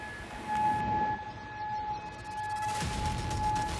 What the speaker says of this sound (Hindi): कुवैत सिटी के लोग सायरन का शोर सुनकर अंडरग्राउंड बंकरों में छुप जाते हैं।